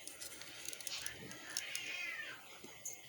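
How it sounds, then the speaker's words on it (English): House cats fight off in another room, a faint yowling caterwaul that rises and bends in pitch, with scattered thumps and rustles around it. "It sounded like my cats were trying to kill each other"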